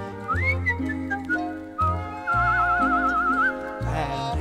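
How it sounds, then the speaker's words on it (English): A whistle on a 1962 children's LP plays bright sliding and warbling notes over a bouncy musical backing, loud and close for several seconds. "I wish I had a whistle, a magic little whistle."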